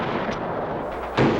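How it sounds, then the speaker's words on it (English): Wartime artillery fire: a single heavy, close boom bursts out loudly near the end, above a dense rumbling background of battle noise. "We were firing machine guns, tank guns,"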